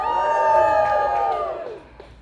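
A game crowd in Comedy Simulator cheers loudly as one, a sustained tonal swell of voices that holds and then trails off toward the end.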